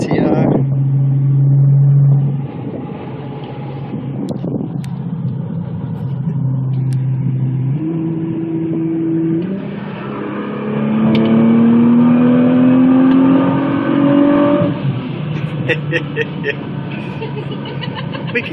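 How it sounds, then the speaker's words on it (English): A Nissan GT-R engine hums steadily while cruising, with the pitch rising and falling through gear changes and building revs near the end, loud and close from inside the car; a voice is heard at times over it. "cruising in the Nissan GTR."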